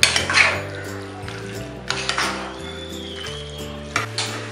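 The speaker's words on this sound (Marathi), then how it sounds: "हे मटण आता या मसाल्यामध्ये चांगले आता एकजीव करून घेऊया." A spoon scrapes and clinks against a pan as mutton is stirred into masala, several irregular stirring strokes close by, set against steady background music with no talking.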